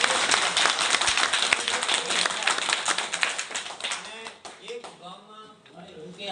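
An audience applauds at a Shri Ram temple flag-hoisting ceremony: dense, loud clapping fills the first four seconds, then thins and fades as a voice begins speaking over the last scattered claps.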